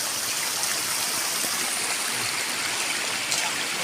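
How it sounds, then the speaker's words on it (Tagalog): A river rushes steadily in a broad, constant wash of flowing water, with no voices over it. "Napakaganda ng ilog dito."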